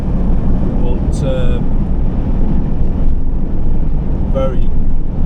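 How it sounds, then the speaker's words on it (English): Strong wind buffets the microphone outdoors on a road trip in northern Norway, a constant roaring rumble with a couple of brief vehicle or tonal sounds passing through. "Very, very windy out there."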